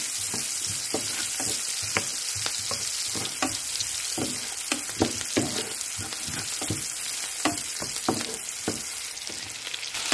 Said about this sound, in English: In same pan, start sauteing the garlic and onion.